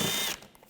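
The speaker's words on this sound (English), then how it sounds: "Using a 8mm socket, we want to take these screws out" An 8mm socket ratchet turning screws on a BMW 328i xDrive 3.0L inline-six, a brief, close, buzzing run of fast clicks that stops abruptly, followed by a few faint ticks.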